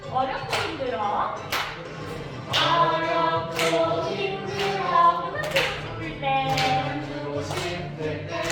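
Young children at a church preschool worship service clap their hands together in sharp, regular beats while singing a praise song with adult teachers, claps cutting clearly through the singing voices.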